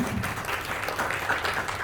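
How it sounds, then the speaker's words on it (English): A room of guests at a client appreciation party applauds Alex on stage, a steady wash of clapping at moderate level with a faint murmur of voices mixed in, holding evenly for about two seconds. "Big round of applause for Alex, ladies and gentlemen"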